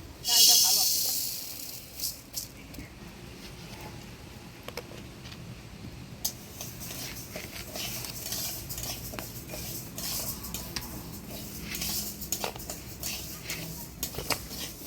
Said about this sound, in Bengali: ডালটা হালকা লাল করে ভাজি নিলাম